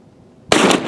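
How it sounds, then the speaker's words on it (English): A single loud, sharp blast from a 12 gauge shotgun with a full choke firing a BB load, cutting abruptly out of near silence. "Shooting at a distance of 40 yards with a 12 gauge shotgun with a full choke, shooting BB load."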